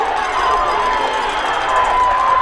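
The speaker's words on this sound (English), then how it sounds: "I hear the crowd yelling about something" Crowd yelling and cheering in the stands at a high school football game, Howe Bulldogs at Tom Bean Tomcats, a loud, steady roar of many voices that holds for the whole stretch.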